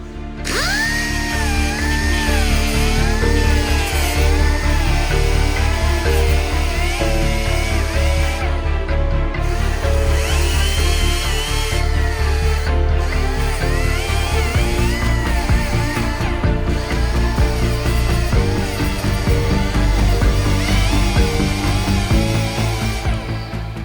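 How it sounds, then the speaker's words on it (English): A power tool grinding epoxy primer off steel panels before welding, a loud continuous whine with wavering pitch that runs unbroken for the whole stretch, with no talking. "So let's grind a couple of them off clean."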